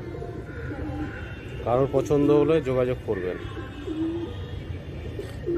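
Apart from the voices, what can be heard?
pigeons cooing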